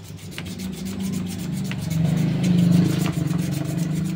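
A part sanded by hand with sandpaper near a bushing, a steady close rubbing rasp in repeated strokes that grows slightly louder, with no talk.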